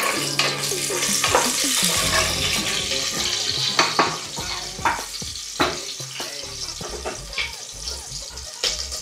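Green chillies stirred and frying in hot oil for sambar, a steady loud sizzle with scraping spoon strokes and clinks, some background clatter and a faint voice underneath.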